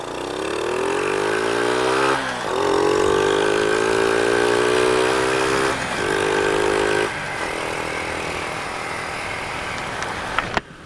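A Honda Revo motorcycle idles steadily through its exhaust, a loud close drone with slight pitch dips and a couple of small rev changes. Near the end it is cut by a brief click.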